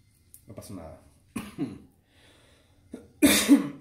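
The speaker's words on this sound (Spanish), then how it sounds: "perdón por la tos" A person coughs several times in a short series of rough, close bursts, ending in a louder harsh cough with a throaty rasp, indoors while working on a Micarta slingshot.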